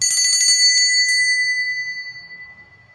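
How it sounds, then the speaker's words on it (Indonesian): A bright metallic bell rings several quick strikes at the start, then a sustained ringing tone slowly decays away on its own. "dengan lonceng berbunyi."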